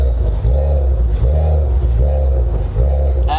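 A Maserati Ghibli SQ4 engine with a loud exhaust, a deep continuous rumble heard from inside the car with slight surges in revs throughout.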